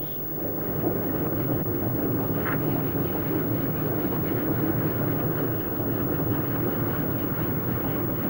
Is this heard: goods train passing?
yes